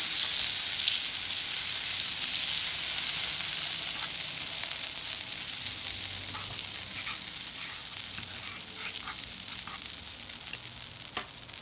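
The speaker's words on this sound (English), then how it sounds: "I'm just going to add a little bit of butter" Butter melts and sizzles in a frying pan over low heat, a steady, close hiss that eases slightly over time, with a few faint pops and crackles and no voices.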